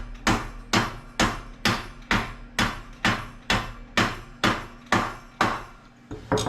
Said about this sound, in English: Let's see if we can hammer that on.